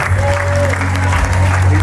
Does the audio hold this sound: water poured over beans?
no